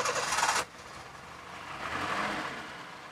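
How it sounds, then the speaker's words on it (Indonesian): A 1994 Daihatsu Zebra 1.3 engine idles steadily at low volume after a brief louder burst at the start, a soft continuous rumble with no talking. "Nah, ini suara langsam."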